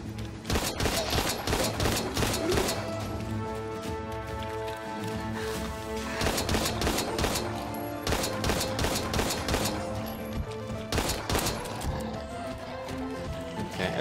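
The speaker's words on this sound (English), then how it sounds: "It's shotgun time, I guess." Shotgun fire in the Daymare horror video game, several loud heavy blasts in quick bursts over a dense, busy game soundscape, with no voice over it.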